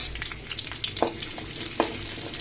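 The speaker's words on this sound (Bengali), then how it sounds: "রসুনটাকে আমি হালকা করে বাদামি কালার করে নিব" Garlic fries in oil, browning lightly, with a dense close sizzle and a couple of short clinks from a utensil against the pan, and no talk.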